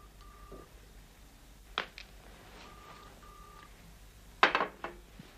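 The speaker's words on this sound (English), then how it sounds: "But I must make a phone call." A telephone is dialed indoors with faint, brief tones and a few clunky handling knocks, ending in a louder clatter.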